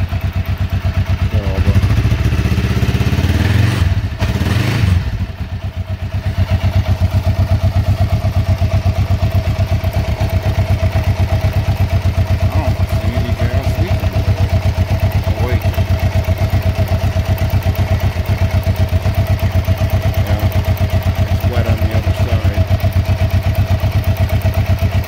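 A 1994 Kawasaki Vulcan 500 motorcycle idles steadily after a cold start, its close, even engine hum running throughout, with a brief clatter and dip near the start.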